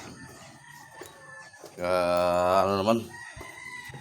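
A rooster crows once, loud and close, with a long harmonic call lasting about a second. A person speaks briefly before and after it, and there is faint background noise outdoors in the morning.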